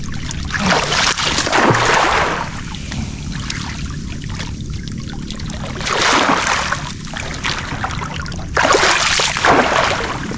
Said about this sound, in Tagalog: Malakas ng agos dito.